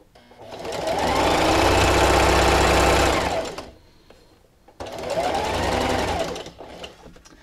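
Sewing machine stitches an outdoor throw pillow seam in two steady, loud runs of rapid mechanical whirring, the first about three seconds long, then a short pause and a second, shorter burst.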